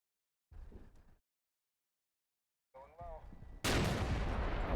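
Gunfire from a large vehicle-mounted gun in the Combat Mission: Black Sea war game, a short burst, a pause, then scattered crackling shots building into a loud, sustained blast of fire at the end.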